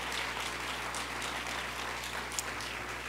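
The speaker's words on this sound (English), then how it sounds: "Let's give them a round of applause as well" Crowd applause during a mayor's State of the City address, a faint, steady wash of distant clapping over a low hum, with no voices over it.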